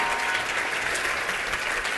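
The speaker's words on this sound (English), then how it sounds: "a big round of applause for the Theater of Public Policy" An audience at a not-so-serious conference plenary applauds for a theater troupe, dense and steady clapping filling the room throughout.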